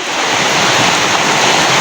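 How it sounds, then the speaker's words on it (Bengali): Dense, steady downpour roaring close by, a loud continuous hiss of heavy rain with no voices. "কঠিন আকারে বৃষ্টি শুরু হয়েছে"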